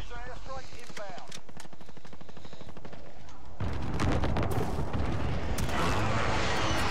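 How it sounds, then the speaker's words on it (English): Airstrike explosions crash through a hardcore Kill Confirmed match of Call of Duty: Modern Warfare on the St. Petrograd map, a dense, loud burst of blasts and rattling gunfire erupting midway after a quieter stretch with a voice. "friendly position airstrike inbound"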